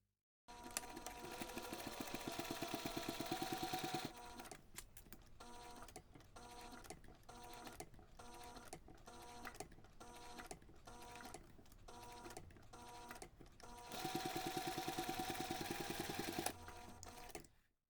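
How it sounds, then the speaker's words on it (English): A sewing machine runs in two long, steady bursts while top stitching a cardholder wallet, with a quieter stretch of slower, intermittent stitching between them, close and clear with no talk. "take this to the machine and we're going to top stitch the connector around those finished"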